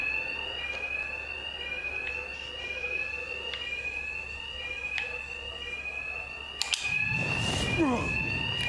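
A repeating electronic alarm in Batman: Arkham Knight rings steadily throughout at moderate level, with a burst of impacts and noise near the end.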